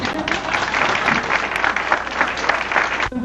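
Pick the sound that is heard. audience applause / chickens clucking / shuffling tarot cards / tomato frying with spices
audience applause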